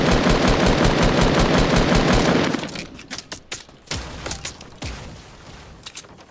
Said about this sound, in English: This fucking minigun needs to like last a little longer, dude, or have ammo.